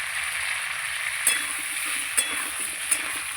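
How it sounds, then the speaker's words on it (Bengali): Bata fish frying in a pan: a steady, even sizzle of hot oil with a few light clinks of a utensil against the pan, and no voices. "এবার আমি ভেজে নেব।"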